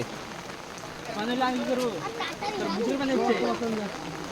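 Heavy rain falls steadily in the Sundarbans mangrove forest, a continuous wash of drops beneath voices talking nearby.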